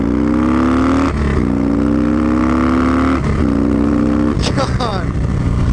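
A 2006 Harley Dyna Low motorcycle rides along with a loud, steady engine drone that climbs through gear shifts, heard close from the rider's position amid wind noise.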